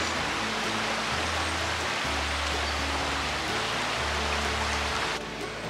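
Steady rushing water fills the scene, a broad continuous splash of a mountain stream, a tributary of the Kuji River near Fukuroda Falls, flowing nearby, with low tonal hum underneath.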